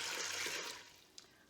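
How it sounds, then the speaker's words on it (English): Water is poured over dry beans in a cooking pot, a short, soft rushing pour that tapers off into quiet, with a faint clink near the end. "then I pour in enough water"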